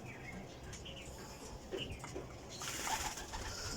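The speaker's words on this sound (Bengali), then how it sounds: "আর কবুতর হচ্ছে এটা" Pigeons in a loft, with faint soft cooing and rustling over low background noise, getting a little busier toward the end.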